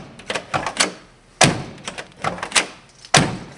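Doors on a 1966 Corvair, a car off the road for 40 years, thud shut several times in quick succession, each a sharp, loud, close slam with a few lighter clunks and latch taps between them.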